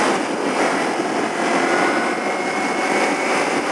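A warm Kawasaki Ninja motorcycle engine just off the freeway, a steady, dense, unbroken roar that stays loud and even throughout with no talk over it.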